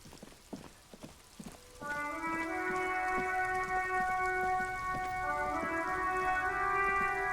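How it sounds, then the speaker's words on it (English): Rain falls in Disco Elysium, a steady wash of droplets that starts up after a few sparse taps and holds at a moderate level, with sustained tonal layers running alongside it. "It's raining again."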